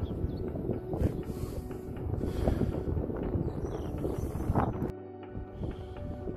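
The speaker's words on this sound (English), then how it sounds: "it's just a bit windy up here, so it kind of cuts out the noise of the wind" Wind on a hilltop above Bedfont Lakes roars and buffets the microphone in a loud continuous rush, then drops abruptly to a quieter gusty hiss.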